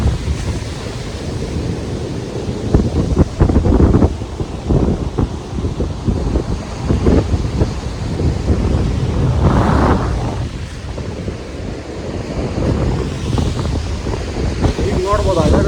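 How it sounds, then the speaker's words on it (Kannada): Strong ocean waves break at Kanyakumari beach, a loud rolling surf roar with heavy wind buffeting the microphone, close and continuous. "ಈಗ ನೋಡ್ಬೋದು ಅಲೆಗಳು ಎಷ್ಟು ಜೋರ ಬೆಳಿತೈತೆ ನೋಡಿ"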